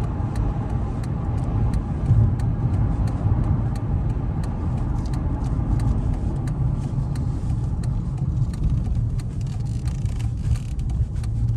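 Steady low engine rumble and road noise from inside a car cruising on city streets and freeway, a continuous drone with faint ticking, no voices heard.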